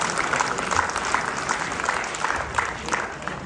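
An audience at an annual community event claps steadily in a dense, even wash of applause with a faint crowd murmur, sustained throughout at close range.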